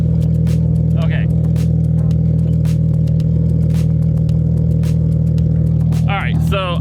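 A straight-piped Nissan 350z idles with a loud, deep, steady burble, a constant low drone with sharp clicks and pops over it, while voices are heard briefly.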